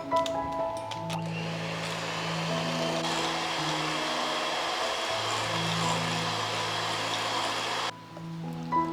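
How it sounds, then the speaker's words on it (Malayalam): An electric hand mixer beats half a cup of butter for frosting, humming steadily with a shifting tone for about eight seconds before cutting off, then briefly restarting. "ഇത് 1/2 കപ്പ് ബട്ടറുണ്ട്, 115 ഗ്രാംസ്. ഇത് നമുക്കൊന്ന് ബീറ്റ് ചെയ്തെടുക്കാം."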